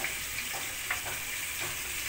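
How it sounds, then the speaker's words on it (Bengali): Pointed gourd (potol) frying in oil makes a soft, even sizzle with a few faint stirring clicks, heard close and without voices. "পটলগুলোকে আমি সোনালি করে ভেজে নেব।"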